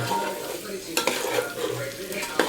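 A spoon stirs chicken biryani with coriander in a cooking pot, making soft sizzling under a few metallic clinks and scrapes against the pot.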